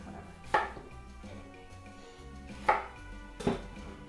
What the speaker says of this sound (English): slice off the root and cut it in another quarter